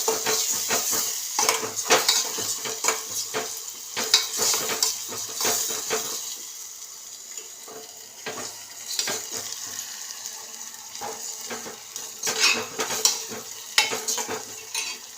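Food cooking in a pot on a gas stove is stirred repeatedly, giving a run of clattering scrapes and knocks of utensil on metal over a soft sizzle, with quieter pauses between bursts.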